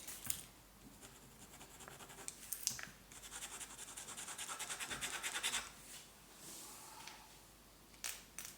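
Pencil scraping and rubbing across paper without leaving a mark, a steady close, quiet scratching that swells in the middle and fades, with a few sharper scrapes near the end.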